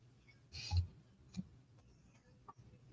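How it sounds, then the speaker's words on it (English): A house cat sneezes hard indoors: one sharp, close burst stands out early, followed by a smaller puff and faint ticks in a quiet room, with no one talking. "My cat was sneezing pretty hard."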